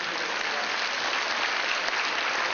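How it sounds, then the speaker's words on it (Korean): A church congregation in Tacoma bursts into thick, continuous applause that stays loud and even throughout, a dense hiss of many hands with no pauses. "하나님께 다시 한번 감사의 박수를"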